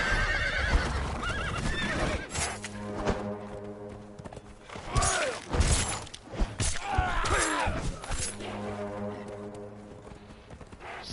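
A horse in the video game Conan Exiles whinnies loudly several times, with clip-clopping hooves and thuds between the neighs, all fairly close and alone without talk.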